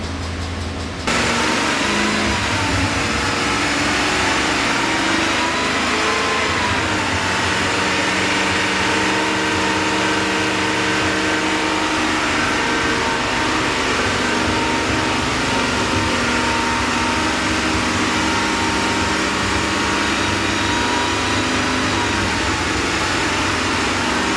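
A warm engine holds a steady 3,000 RPM in an enclosed space with no airflow, a continuous loud drone with a faint lifter tick on cylinders one through four running beneath it.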